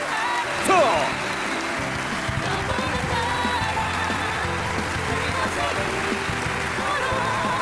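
At an Atomy promotion ceremony, an audience applauds continuously to welcome the honorees, a dense, steady wash of clapping with music underneath.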